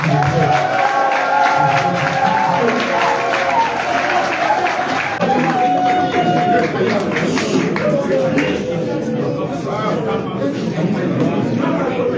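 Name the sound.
applause and cheering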